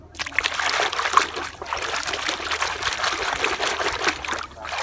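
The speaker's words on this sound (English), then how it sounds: "Wow, water gun." A toy water gun squirts water during a toy-washing play session, a steady hissing spray and splashing that runs nearly continuously at close range, with no talk over it.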